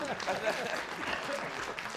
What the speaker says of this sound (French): si vous applaudissez, c'est tous ensemble ou pas du tout